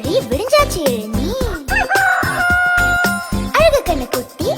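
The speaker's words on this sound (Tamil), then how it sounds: "கொக்கரக்க கோழி விடிஞ்சாச்சு எழுநீ." A rooster crows loudly and nearby, a long drawn-out call framed by shorter clucking bursts.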